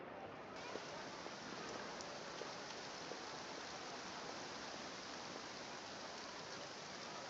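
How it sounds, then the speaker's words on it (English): Steady, even rain falls across the city of Fontaine in Genshin Impact, a soft continuous wash of drops with no voices over it. "It's raining. Raining in the city of water."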